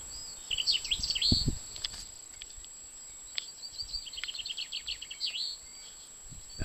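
Skylark song over open, barren Dorset countryside: faint, rapid high chirping trills running through most of the stretch, with a brief low rumble near the start.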